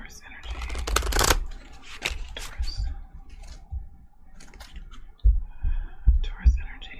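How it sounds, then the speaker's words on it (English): Tarot cards being shuffled close up, a burst of rapid riffling flutters followed by softer shuffles and taps, with faint whispery sounds in the background. "If you do not like the shuffling"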